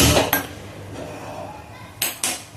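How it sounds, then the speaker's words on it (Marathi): A metal kadai is set down on a home gas stove with loud clanking hits at the start and again near the end, and a low steady hum of kitchen background in between. "आता आपण कढाई टाकून घेऊया"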